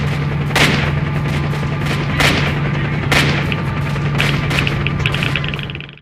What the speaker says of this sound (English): emerged the sound of gunfire and angry Ukrainian voices